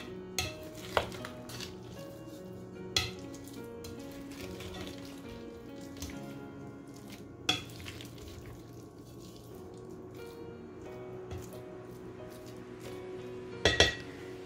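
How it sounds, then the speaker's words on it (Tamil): Marinated bitter gourd pieces coated in masala are tossed together in a bowl, with faint spoon or utensil clinks against the dish scattered through a quiet stretch. "இப்போ இதை நம்ம ஒரு தடவை நல்லா மிக்ஸ் பண்ணிக்கலாம்."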